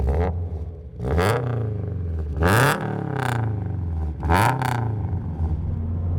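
Subaru BRZ fitted with a loud aftermarket exhaust, revved hard in repeated blips: several sharp rising engine bursts with a rough, rude exhaust note, close up and with no talking.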